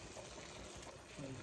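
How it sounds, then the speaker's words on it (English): A ladle dips into a pot of boiling pasta water, giving a steady bubbling, sloshing hiss with a brief splash near the end, fairly faint and close. "I'm gonna drain this, but first I'm gonna get some of this pasta water."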